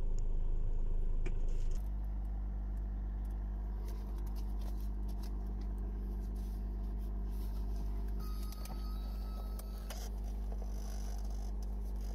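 Car engine idling after a start, with the check engine light still on from an EGR control valve circuit fault: a louder start burst, then a steady low idle hum with faint ticking, close by.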